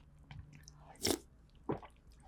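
Raw green onion bitten and chewed during a Korean pork back-bone stew mukbang, two crisp crunchy bites close to the mic with soft chewing between them, quiet and without talk.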